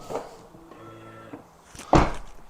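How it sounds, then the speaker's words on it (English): The door of an electric car being tested after an ambient LED light kit install: a short mechanical rattle and whir, then one solid, loud closing thump up close. "Test it out, make sure the door is working."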